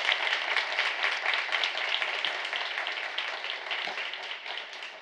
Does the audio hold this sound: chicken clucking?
no